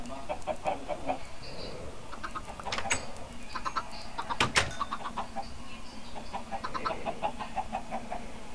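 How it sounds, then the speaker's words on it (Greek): Chickens cluck in the video game Minecraft, a scattered series of short clucks at moderate level over a steady game background hum. "Ωραία κότες."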